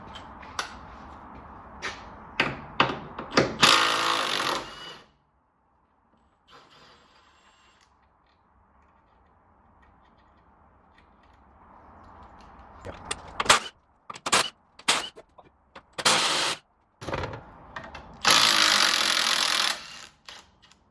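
Bolts are undone to drop the differential on a drift Mazda MX-5 Miata with a BMW engine swap: sharp, close mechanical bursts and rattling tool clatter come in clusters, with a quiet stretch of faint workshop noise in between.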